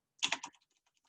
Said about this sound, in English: So I'll type in my username.